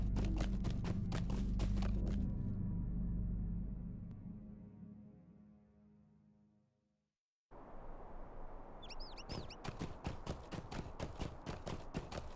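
A horse gallops in Lord of the Rings Online with rapid, rhythmic hoofbeats, then a loud rumbling passage fades into brief silence, and quick clip-clopping hooves return near, steady and loud.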